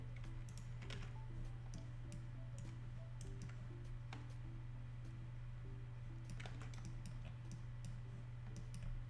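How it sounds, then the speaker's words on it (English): Typing on a computer keyboard, including presses of the Alt key: quiet, irregular clicks in short bursts over a steady low electrical hum, close and faint. "I keep pressing Alt, which puts me in like, wait, what do I keep pressing?"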